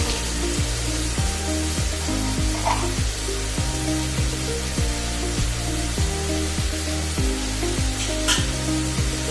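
Tomatoes fry in a pan for avarekalu bath, giving a steady, close, continuous sizzle throughout with no pauses or talk.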